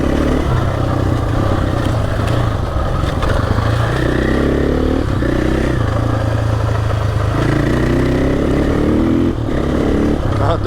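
A fuel-laden KTM 500 motorcycle ridden on a remote Cape York track, a loud, close engine drone with rising and falling revs and rattling clatter throughout.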